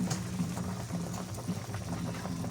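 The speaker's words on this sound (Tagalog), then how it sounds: "Pakuluan natin para maluto ang pechay." A pot of pechay (bok choy) boils steadily on the stove, a close, continuous bubbling and gurgling with small irregular pops and no voices.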